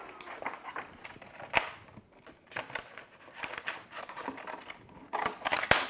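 Scissors trimming adhesive vinyl for layered decals, with repeated close snips and crinkling of the sheet in an irregular rhythm at a quiet level.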